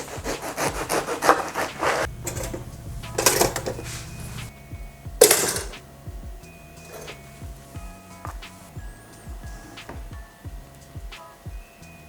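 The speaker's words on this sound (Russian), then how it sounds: "Теперь отрежем хлебушек." A knife saws through a loaf of bread in a few rasping back-and-forth strokes, close up, followed by softer scraping and rustling sounds.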